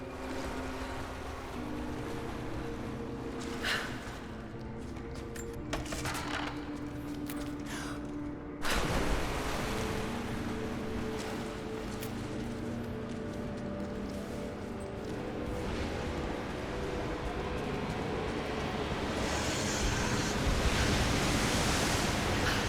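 Swimming through sewer water in Rise of the Tomb Raider gives a continuous wash of sloshing and surging water, steady and close, with brief splashy bursts and a heavier splash midway, no talk.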